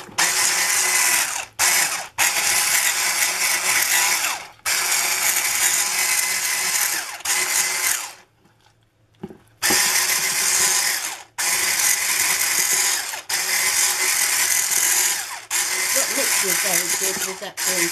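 An electric mixer beats cream cheese for a Halloween pumpkin cake, a loud close whirring and grinding that stops and restarts several times, with people talking during the pauses.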